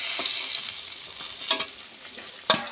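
Rohu fish pieces frying in oil for a light Bengali curry with ridge gourd and potato, a soft continuous sizzle broken by a few sharp spatula taps and turns.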